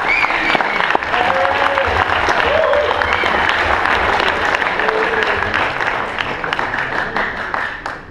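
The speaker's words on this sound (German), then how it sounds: "Da war ein Applaus." An audience at an integration evening in Bottrop applauds as a speaker is called to the stage, a dense, sustained wave of clapping that fades slightly toward the end, with voices mixed in.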